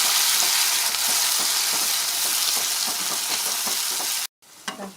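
Onion, tomato and slit green chili sauté in a pan with a loud, steady hiss of frying and faint stirring scrapes, close up, cutting off abruptly near the end before a brief quieter clatter.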